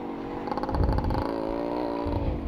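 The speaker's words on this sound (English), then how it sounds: "I'm not getting any words to describe the exhaust note of his motorcycle" A ported Suzuki Shaolin two-stroke motorcycle with an expansion chamber exhaust revs loudly nearby, a raspy, buzzing engine note that surges briefly then holds steady.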